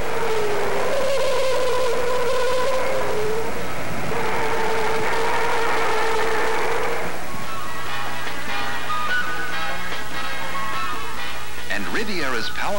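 A 1975 Buick Riviera drives through tight maneuvers, its engine droning loud and close with rising and falling pitch and tire squeal toward the end, under narration.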